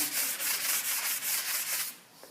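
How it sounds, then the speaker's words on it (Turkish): Rhythmic back-and-forth scratching of sandpaper on an old wooden chair, by hand, about a dozen even strokes close up, then stopping. "Güzel zımparaladım bunu."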